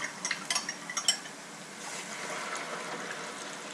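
Bouillon for French onion soup is poured into a pot, opening with a few light clinks of the container against the pot rim and then settling into a soft, steady stream of liquid splashing.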